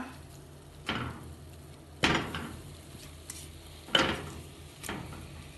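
Chicken pieces go into biryani masala in a pan with several sharp metallic clanks and scrapes of a utensil against the pot, spaced irregularly over a faint background hiss.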